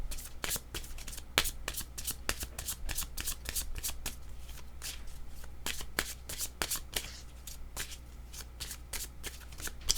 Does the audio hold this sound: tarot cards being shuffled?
yes